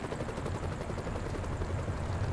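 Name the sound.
helicopter flying overhead in Euro Truck Simulator 2 video game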